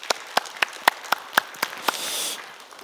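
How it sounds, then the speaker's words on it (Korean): A church congregation claps in thanks at an early-morning Sunday prayer service, with about a dozen sharp, separate claps at a steady beat, then a brief swell of scattered clapping that fades. "뜨거운 박수로 우리 감사하십시다"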